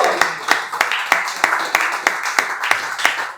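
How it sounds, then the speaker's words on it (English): Sharp, regular hand claps ring out close by in a steady rhythm of roughly three per second, a round of applause that sounds like only a few people rather than a large crowd. "give him a big round, give him a big round of applause"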